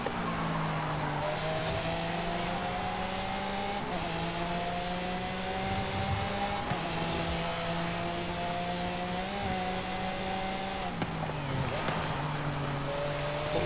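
A Lamborghini SVJ engine in Forza Horizon 5 revs loudly and continuously, climbing in pitch and dropping sharply at several gear shifts, a steady high-revving race-car wail throughout.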